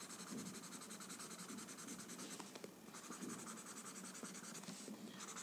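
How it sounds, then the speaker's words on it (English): Pencil graphite is rubbed and blended softly on paper, a close, continuous scratchy rubbing with short back-and-forth strokes and brief pauses, no voices. "just softening the graphite but not pulling it too much anywhere, just rubbing it where it is"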